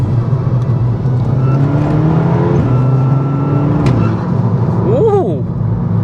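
A Mk5 Golf GTI engine fitted with an induction kit hums at a steady idle and then rises in a couple of short revs, with a faint high whine near the end.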